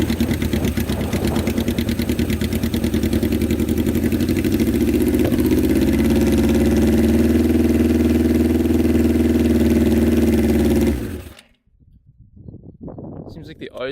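A 650cc shifter kart engine runs steadily with the choke on, giving a loud, close, continuous mid-pitched drone for about eleven seconds before cutting off abruptly, with a few faint sounds after.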